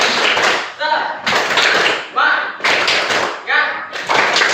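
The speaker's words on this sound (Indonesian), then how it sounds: "Tepuk semangat" An elementary school class performs a rhythmic spirit clap, bursts of group clapping and hand slaps in a repeating patterned beat, with children's voices chanting between the clapping phrases.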